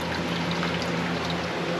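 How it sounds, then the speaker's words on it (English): A homestead water system running, water flowing steadily with a constant rushing, trickling wash and a faint low hum underneath, even and uninterrupted for under two seconds. "Actually, the water system is actually running as we speak."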